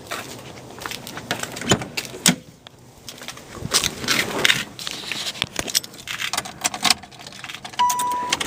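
Keys jangle and rattle at the ignition of a 1994 Saturn SL2 Homecoming Edition, irregular close metallic clinks and knocks, with a faint thump and a brief steady tone near the end and no talk.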